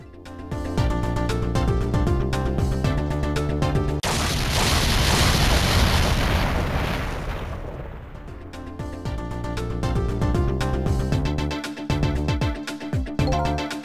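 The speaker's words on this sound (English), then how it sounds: "I think I heard an explosion somewhere." Explosion in the Ghost Trick video game: a roaring, rumbling blast lasts several seconds, surging out of the game's music, which drops away and then returns.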